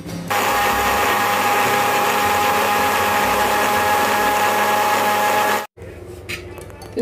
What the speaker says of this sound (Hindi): इसको मिक्सर में डालकर हम पीस लेंगे।